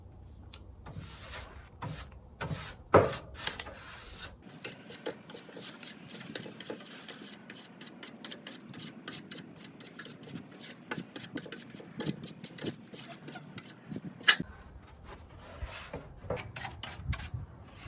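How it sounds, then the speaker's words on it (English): A plastic bristle brush scrubbing in a construction setting, quiet, close scratchy strokes repeating at a steady pace with a couple of louder knocks, no talking. "I'm just gonna have to use a regular plastic bristle brush"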